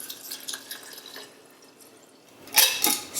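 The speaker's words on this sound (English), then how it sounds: "Place the lemon zest in a clean glass jar and pour the alcohol over" Alcohol is poured over lemon zest in a clean glass jar: a light, steady liquid trickle, then a couple of louder splashing gushes near the end, close by and with no talk.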